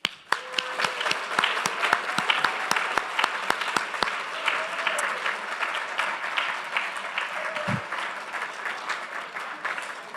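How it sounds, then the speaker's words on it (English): Sustained audience applause at a salute to Jewish educators, dense clapping from a sizable crowd lasting the full stretch, with a few sharp close claps early on and faint voices mixed underneath. "Let's keep the applause going for these amazing individuals and the work that they do."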